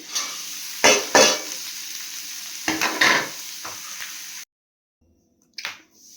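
Vegetables tossed into a frying pan for chira pulao in a hostel kitchen, a few loud bursts of sizzling and clattering stirs, then a sudden silence and one more brief sizzle.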